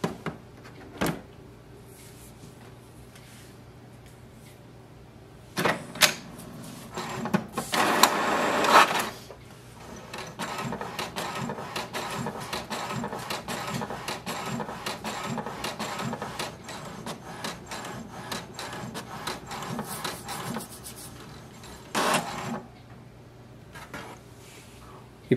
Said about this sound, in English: Now wait for the printer to print a page.